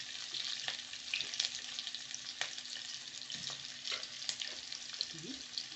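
Carrots frying in a pan for a chicken dish, a steady close crackling sizzle with occasional stirring scrapes and clinks throughout, no talking.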